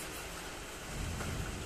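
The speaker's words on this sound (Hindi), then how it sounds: "बाहर हो रहा है बारिश" Rain falling outside in the afternoon, a steady broadband hiss with a low rumbling swell of thunder building in the second half, heard from indoors.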